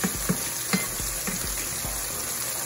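Green tomato slices frying in grease, a steady close hiss of sizzling oil with soft periodic pops and bubbling, continuous and unbroken, no voices.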